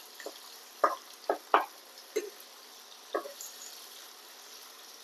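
Potatoes sizzle softly in a pan as a spatula stirs them, with scattered quiet scraping knocks over a faint, constant frying hiss.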